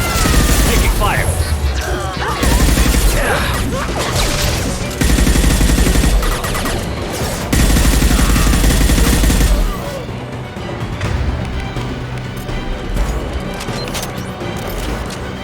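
Heavy sci-fi gunfire in a Mass Effect 2 firefight, dense bursts of automatic weapons and crashing impacts that keep surging, loud and continuous, with shouted voices mixed in.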